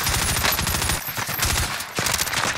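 Gunfire in a multiplayer shooter video game, rapid automatic bursts rattling in quick succession, loud and close, with a short break before a final burst.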